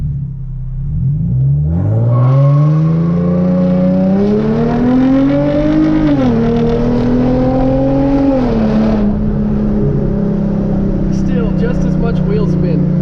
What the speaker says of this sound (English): I'm gonna try launching it in second gear. See if we can get less wheel spin.